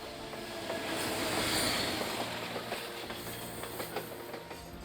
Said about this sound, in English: This is more than a train ride.